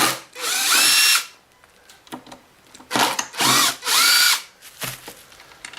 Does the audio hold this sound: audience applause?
no